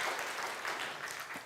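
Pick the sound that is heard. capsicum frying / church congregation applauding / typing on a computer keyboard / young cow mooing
church congregation applauding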